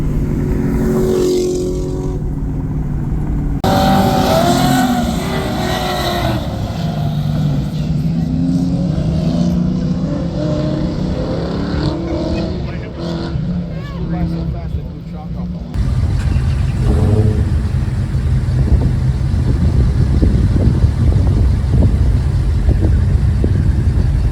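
A blue 2019 Corvette C7 Grand Sport revs hard and accelerates away, a loud, sustained engine roar that swells and drops off, then a second surge of rumbling engine noise nearby, with people talking over it.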